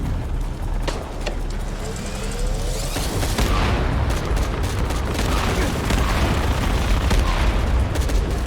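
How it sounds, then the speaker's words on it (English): A loud, continuous blast and rumble from an explosion in Shadow of the Tomb Raider on PS5, with dense crackling debris and broadband roar sustained throughout, and no talking. "Lara stared at it and it blew up."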